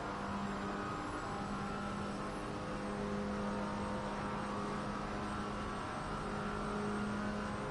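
A GT4 race car engine in Assetto Corsa Competizione drones steadily at high revs on a long straight at Paul Ricard, loud and close, holding an even pitch with no clear gear changes.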